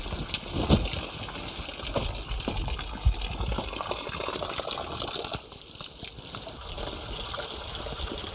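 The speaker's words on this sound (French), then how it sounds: "La douche au bord de la mer" Outdoor seaside shower running, a steady gushing and splashing of water close by with a few louder spatters, fairly quiet and without talk.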